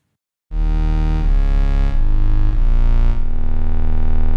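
A loud, buzzy synthesizer tone with a deep octave-below layer, holding steady pitches that shift a few times, alone and close.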